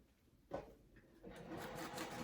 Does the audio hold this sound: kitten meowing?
no